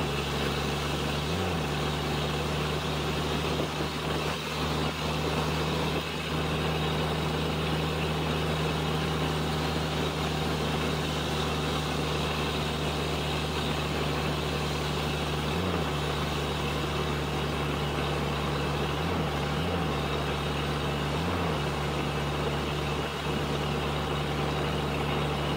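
Close, steady diesel drone from a 2000 Dodge Cummins truck with 165k miles and a slipping transmission, running on for a long stretch with a few brief low bumps and surges.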